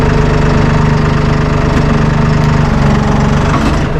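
A skid steer engine runs loud and steady at close range, a constant low droning rumble with a rapid pulse, while a solenoid valve opens a 4-in-1 bucket; no distinct valve click stands out over the engine.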